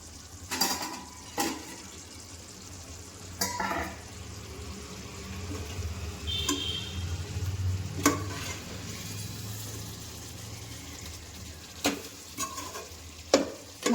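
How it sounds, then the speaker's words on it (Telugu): Mutton being stirred in a pot for biryani, with soft scraping and sizzling, occasional sharp clinks of a spoon against the metal pot, and a low simmering bubble throughout. "అడగంటిపోకుండా వీటిని అలా కలుపుకుంటూనే ఉండాలి"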